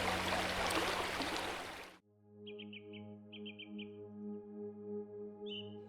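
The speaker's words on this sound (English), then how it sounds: "Bird songs resonate everywhere, mixing with the rustle of leaves" Birds sing in the Pantanal forest, with short bursts of chirps repeated in quick groups over a low, steady background hum after a loud rushing noise at the start.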